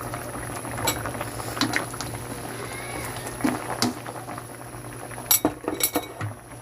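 Broth with wild labuyo chillies and salt bubbling in a pot, a soft continuous simmer with faint clinks of a spoon or utensil against the pot, quiet and close.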